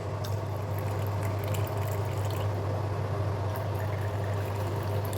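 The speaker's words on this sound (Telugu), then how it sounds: "ఇప్పుడు వాటర్ పోసుకుందామండి." Ice water pours steadily into a raw mango aam panna drink with soaked sabja seeds, a continuous close stream running without a break under a low hum.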